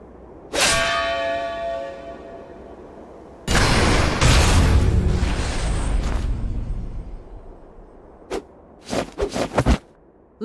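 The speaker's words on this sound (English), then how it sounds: "The bell heralds your defeat." A bell rings out in the video game Octopath Traveler 2: a ringing clang with a long decaying tone, then a loud booming crash, followed by several sharp short metallic hits near the end.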